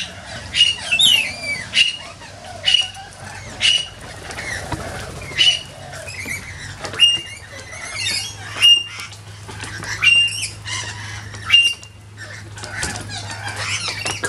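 Lorikeets and cockatoos squawk over seed put out on a wet winter's day, harsh calls bursting repeatedly and close by, with wing flaps and a steady low hum beneath; a voice can be heard faintly.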